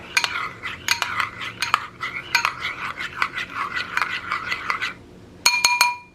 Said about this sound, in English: I'm just stirring it a bit to make sure it dissolves.